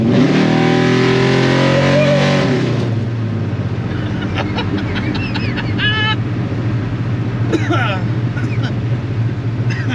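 A carbureted car with dual Edelbrock VRS-4150 carburetors on a tunnel ram intake roars loudly in second gear doing a roll-on burnout, the engine note rising and then holding a steady, dense rumble with some higher squeal-like streaks.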